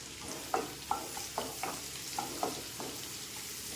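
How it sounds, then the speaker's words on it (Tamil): Large onions fry with curry leaves in a pan for paneer butter masala, giving a low steady sizzle with regular spatula stirring knocks roughly every half second, close up and with nobody talking. "இது கூட கொஞ்சம் வெங்காயம், பெரிய வெங்காயம் போட்டு வதக்குவோம்"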